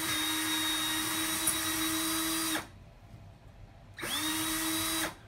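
Power drill in a home toaster-modding project, whining loudly and steadily for about two and a half seconds, stopping, then spinning up again for another burst, close by with no talk.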